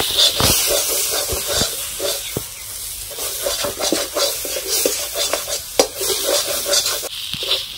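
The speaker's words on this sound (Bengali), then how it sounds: "এখন ভালো করে কষিয়ে ঝরঝরে একটা পুর বানিয়ে নেব।" A stuffing filling seasoned with salt and turmeric fries and is stirred in a pan for stuffed ash gourd, a continuous hiss with repeated sharp spatula scrapes and knocks close up.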